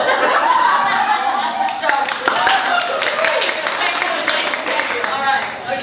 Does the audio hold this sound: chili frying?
no